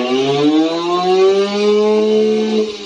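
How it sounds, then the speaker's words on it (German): A small Simson cross moped engine with a homemade turbo kit exhaust drones loudly and steadily on a dyno, its pitch climbing gradually as it revs up under load, then holding high near the end. "Noch ein Eigenbauauspuff von Martin, Turbo Kit."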